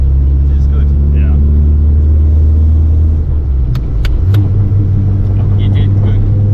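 An SR20-converted Datsun 200B SSS engine idles close by with a steady deep rumble that briefly lifts in pitch, while people talk over it.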